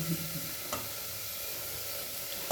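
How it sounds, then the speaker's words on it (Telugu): Mint and coriander leaves dry-roasting in a pan without oil give off a soft, steady sizzle, with a sharper stirring scrape near the start and no voices. "ఒక 2 minutes వేయించిన తర్వాత ఈ పుదీనా, కొత్తిమీర కూడా వేయించాలి"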